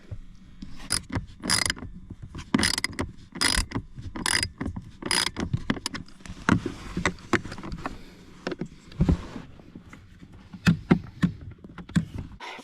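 A ratchet fitted with a deep 8mm socket clicks in quick repeated bursts while working on a truck, short metallic ratcheting strokes separated by brief pauses, close and fairly quiet.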